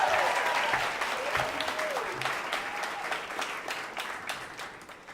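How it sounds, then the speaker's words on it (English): An audience at a Moth storytelling event claps steadily, a dense patter of applause that gradually thins, with a voice speaking briefly over the start. "Give her a round of applause one more time."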